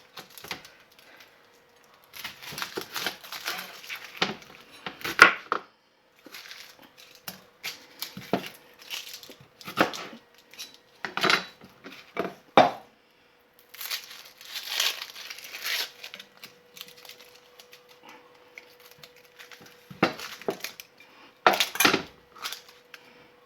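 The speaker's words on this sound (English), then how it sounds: "The first thing I'm going to do is I'm going to cut an onion." A small knife chops an onion on a cutting board for Portuguese bean soup, giving irregular crisp, crunchy cuts in scattered bursts with quiet gaps between them, close and fairly soft.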